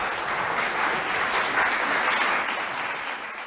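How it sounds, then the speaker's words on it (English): Steady applause from a concert audience closing a piano masterclass on Beethoven's Appassionata Sonata, dense and sustained, tapering slightly at the end. "Applause at the end of this masterclass on the Appassionata Sonata by Beethoven."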